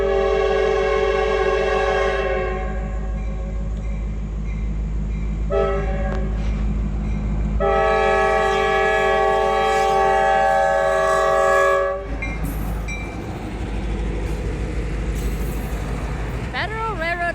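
A Norfolk Southern freight train's engine horn on the Buffalo Line sounds loud and close in long blasts, with a short break and then a longer sustained blast, over a deep rumbling engine; the horn cuts off and the locomotive keeps rumbling past.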